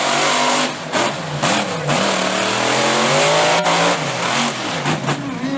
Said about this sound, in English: That motor sounds amazing.